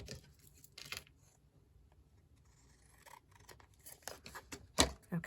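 Scissors snip through material in a quiet room, with a few short, crisp cuts scattered among soft scraping and handling noises, close but low in level.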